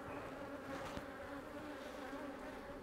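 Honey bees in a packed hive during an inspection make a dense, continuous buzz that stays close and even throughout.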